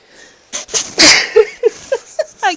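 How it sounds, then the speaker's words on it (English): One sharp, loud sneeze from a person bursts out near the start, followed by a series of short breathy sniffs and small vocal noises. "I had to sneeze"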